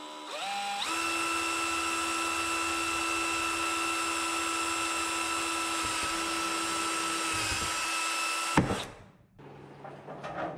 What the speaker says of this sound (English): I'm just going to drill a couple holes through the PVC